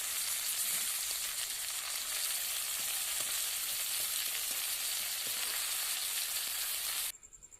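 Fish wrapped in bottle gourd leaves sizzles steadily in a pan, a dense, even frying hiss with faint pops that runs alone and close, then cuts off abruptly near the end.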